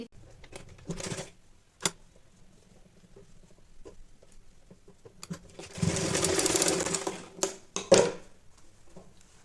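A sewing machine stitches pleats into a baby saliva towel in short bursts, with brief clicks and pauses and one longer steady run of fast stitching near the middle, close and fairly quiet.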